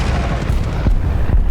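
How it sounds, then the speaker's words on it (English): A bomb dropped from a plane strikes a Leopard tank in War Thunder, setting off a loud, close, rumbling boom with a second heavy thud a moment later and no talk. "The second bomb does connect though"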